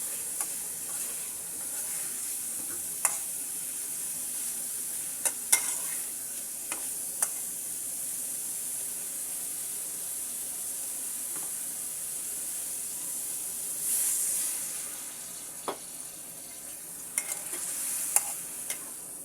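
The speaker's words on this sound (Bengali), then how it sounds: "মাছটাকে আমি ঝোলের সঙ্গে কষিয়ে নিচ্ছি সুন্দর করে মশলা দিয়ে।" Snakehead fish being stirred and sautéed with spices in gravy, cooked with potatoes. A steady close sizzle runs throughout, with occasional scrapes and clicks from stirring, and no talk.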